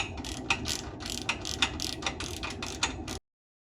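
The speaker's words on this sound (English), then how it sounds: "Now let's see if I can't pull this off with my ratchet." A ratchet wrench clicks steadily while loosening a muffler clamp on an A-1 Sidewinder performance exhaust system, a close run of rapid metallic pawl ticks in short bursts with no talking.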